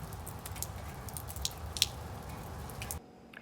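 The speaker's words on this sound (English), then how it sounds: "I heard the rain outside. So we have some precipitation happening right now" Soft steady patter of rain with occasional louder drips, heard from indoors, continuing for about three seconds before cutting off.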